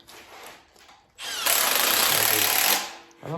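A 3/8 Snap-on impact gun tightens a bolt on a Jeep TJ during an LS swap. After a quiet start it fires one loud, close, sustained hammering burst of about a second and a half, then a brief second burst begins.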